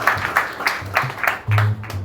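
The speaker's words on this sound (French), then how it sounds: "Applaudissez-moi." Rhythmic hand clapping from a church congregation, steady beats about three per second, close and fairly loud, with low sung or hummed tones underneath.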